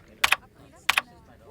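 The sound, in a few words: typing hard on a computer keyboard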